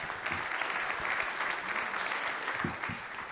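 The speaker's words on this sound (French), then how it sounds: "on peut l'applaudir" Audience applause at the opening of the 2MF 2024 forum, steady dense clapping filling the hall throughout with no voices over it.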